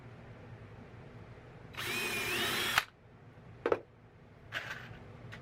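A power drill countersinks a screw hole in wood, one loud whirring burst of about a second that cuts off abruptly, followed by a few short clacks and a brief tool sound, with no speech.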